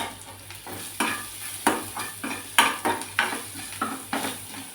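Onions with turmeric and a pinch of salt sauté in a pan, a soft frying hiss broken by a regular series of scraping stirs about every half second, close and alone.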